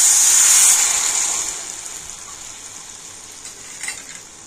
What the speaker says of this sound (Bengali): আর এখন আমি নাড়াচাড়া করে চিনিটা কিন্তু খুব ভালোভাবে গলিয়ে নেব।